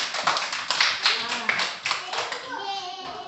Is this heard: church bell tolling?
no